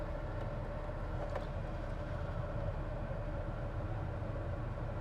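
Air conditioning fan blowing in a 1986 GMC Sierra 1500 pickup truck, a steady, even broadband rush that holds at constant loudness throughout with no talking.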